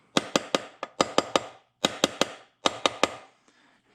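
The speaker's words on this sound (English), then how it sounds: "Just take this, give that a little tap." A tool taps a stuck part during the teardown of an H22 engine swapped into a Honda Del Sol, sounding as crisp metallic knocks in quick groups of two or three, close and loud, with short pauses between groups.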